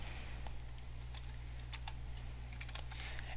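Someone types an ipconfig command on a computer keyboard, a steady run of light, quick keystroke clicks heard close over a constant low background hum, with no talking.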